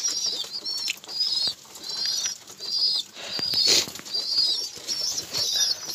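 Pigeons in a loft, with bursts of flapping wings and soft cooing mixed with chirps, recurring steadily in close, busy activity.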